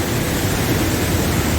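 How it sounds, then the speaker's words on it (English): Water pouring from all around a rock overhang beside a jungle waterfall in Tetebatu, Lombok, making a dense, steady, close rushing roar that fills the whole moment with no voices. "There's just water falling from everywhere."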